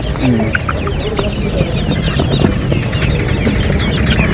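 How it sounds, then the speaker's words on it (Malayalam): Egyptian Fayoumi chickens cluck and squawk close by at a Sunday poultry market in Tirur, a busy flock calling continuously over background noise. "Egyptian Fayoumi"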